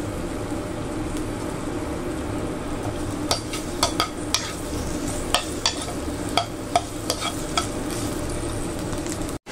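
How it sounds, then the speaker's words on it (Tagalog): Ginger sautéing in hot cooking oil for Filipino mung bean stew with eggplant: a continuous low sizzle with a run of crisp taps and scrapes from stirring in the second half, close and moderate, no speech. "Nagpainit ako ng mantika. Ayan, nalagay na natin yung luya o yung ginger natin."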